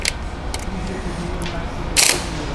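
A ratchet fitted with an 11mm socket tightens the clamp on a Cadillac ATS-V cold air intake, giving a few short bursts of close, sharp clicking over a low background hum.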